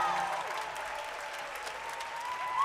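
An indoor audience claps for an acoustic country band, a steady wash of applause from many hands at moderate distance, holding evenly throughout.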